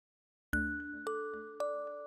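Three bright notification bell dings ring out one after another in quick succession, each chime clear and ringing on over near-silence.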